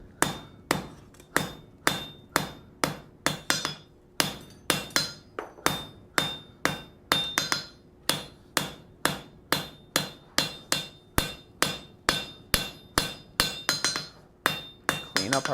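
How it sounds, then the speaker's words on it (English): Steady hammer blows planish a piece of forged metal being thinned toward its end, each strike a sharp ringing clink in an even rhythm, loud and close with brief pauses between series. "Some planishing blows"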